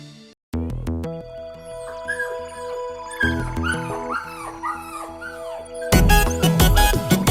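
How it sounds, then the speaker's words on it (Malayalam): A puppy yipping and whimpering in short high cries over bouncy, upbeat music that grows louder and fuller near the end. "നായ്ക്കുട്ടി റൂബി വാലാട്ടി തലയാട്ടി കുസൃതികൾ കാട്ടി രസിക്കുന്ന"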